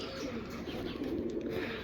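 Pigeons coo softly and continuously inside a loft, a low murmuring layer that stays faint and close throughout.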